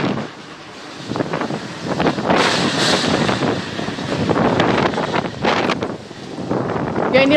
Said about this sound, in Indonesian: Angin kencang ini menyebabkan atap rumah warga berterbangan.